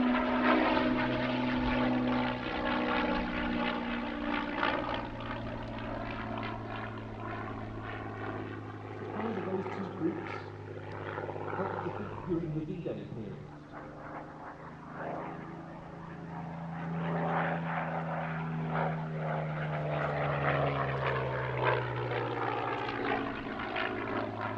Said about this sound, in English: technically would have been a Spitfire Mark 9, although this one is an LF.16E